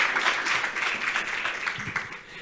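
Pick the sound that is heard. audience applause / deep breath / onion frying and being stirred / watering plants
audience applause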